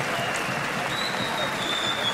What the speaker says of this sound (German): Und den Applaus, den können beide Boxer jetzt hier auch genießen.